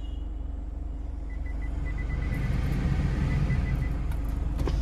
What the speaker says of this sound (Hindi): दोस्तों अब मैं करता हूँ इंजन ऑन